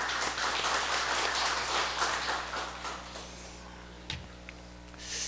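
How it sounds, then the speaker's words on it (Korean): Church congregation applauding during a Sunday morning worship service, a dense steady wash of many hands clapping that gradually thins and fades toward the end, heard in a large reverberant room. "우리 하나님께 영광의 박수 돌리겠습니다."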